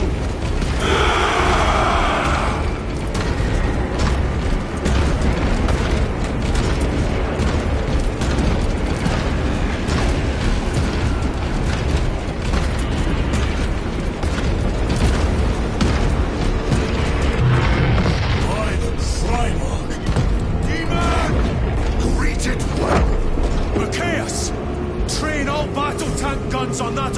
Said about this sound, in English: All forces, fire at